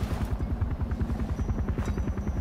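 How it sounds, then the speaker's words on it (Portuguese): Helicopter arriving in the video game Far Cry 4, its rotor making a steady, loud, rapid chopping thud with an engine drone underneath, continuous and close, with no talking. "Chegou um helicóptero aqui, velho."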